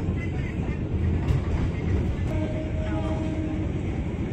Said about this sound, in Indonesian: Kereta kita langsung ngebut lagi nih dengan kecepatan maksimal 90 km per jam.